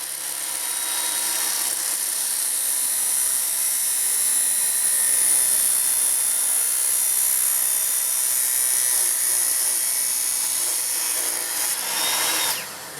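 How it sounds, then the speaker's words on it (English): Loud, steady grinding whine of a power tool angle-cutting a metal exhaust pipe tip on a racing mower, continuous for about twelve seconds before cutting off abruptly at the end. "we're going to go ahead and angle cut that tip downward"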